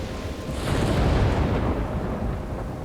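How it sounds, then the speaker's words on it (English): Rumbling thunderstorm in the video game Life Is Strange, a broad, sustained roar of thunder and storm noise swelling slightly midway and holding steady throughout, with no talk. "Really storming."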